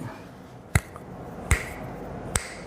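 Three crisp finger snaps, close and distinct, spaced roughly evenly apart against a quiet background.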